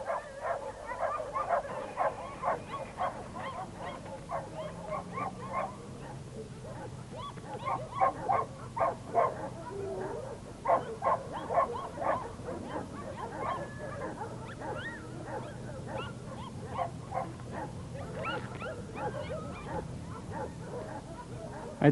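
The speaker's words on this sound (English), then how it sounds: "All the bitches with litters and male dogs are kept outside the main compound in individual kennels." Dogs in individual outdoor kennels on a dog farm bark, yip and whimper continuously, several animals overlapping at close to moderate range in a steady, restless chorus.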